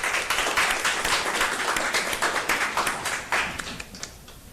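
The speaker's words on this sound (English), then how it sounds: "another huge round of applause for the Mississippi Book Festival" At a school board meeting, a modest group in the room claps with distinct, scattered hand claps that thin out toward the end.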